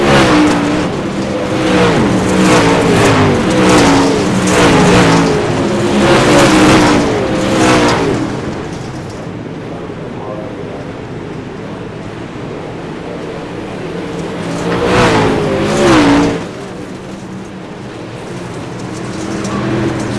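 Super late model race cars at a winter racing league event in Lincoln accelerate hard on the track, loud engine roars swelling and fading as cars pass in waves, with quieter stretches between.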